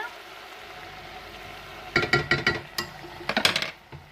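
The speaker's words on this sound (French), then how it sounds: "On remue, bien évidemment." Flour being stirred into frying chicken gizzard sauce in a pan, a quiet simmer first and then a run of scraping, clattering utensil strokes against the pan in bursts through the second half.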